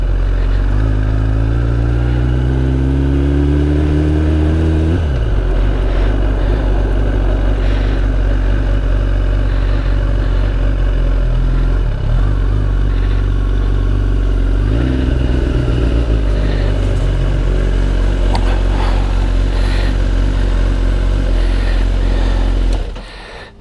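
A motorcycle engine that has sat unridden for over two years runs loud and steady throughout, an uneven revving climb over the first seconds settling into a rough, clattering idle with a few small throttle blips, and no talking.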